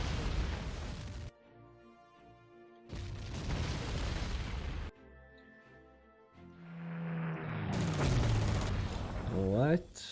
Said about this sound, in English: We'll decide to bomb the living hell out of it